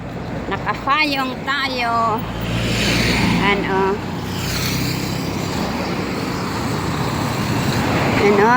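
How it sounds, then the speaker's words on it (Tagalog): Cars and buses pass along Jalan Bangsa, a steady roar of street traffic heard while walking, with a person talking briefly over it near the start and end. "May sasakyan."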